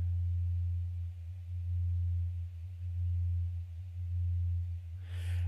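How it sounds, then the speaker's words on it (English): A synthesizer tone whose filter cutoff is swept by a triangle LFO, a loud low sustained note pulsing in a wobbling rhythm that gradually quickens, ending with a brief brighter burst. "we'll set our LFO to a triangle, and again we'll play that and we'll start to increase the speed"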